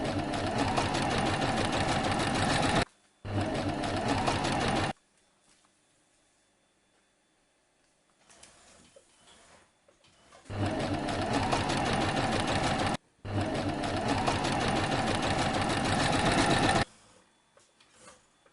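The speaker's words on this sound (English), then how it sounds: "Sew with a loose zigzag stitch along the previously created guides." Sewing machine running a loose zigzag stitch along a dress sleeve, two long steady bursts of rapid needle chatter, a pause with faint handling, then two more long runs, close and loud.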